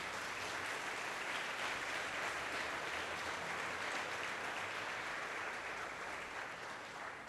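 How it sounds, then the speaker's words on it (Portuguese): A church congregation claps in a steady, dense round of applause that holds at an even level throughout, heard from within the room without talking over it. "Dê um aplauso a Jesus nessa noite."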